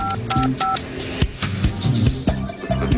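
Telephone keypad tones as a code is punched in on a business phone, a quick series of short beeps in an uneven rhythm, loud and close with no talking.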